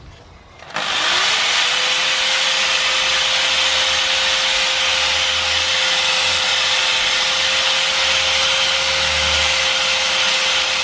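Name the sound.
sanding BMW E60 subframe bushing bore with sandpaper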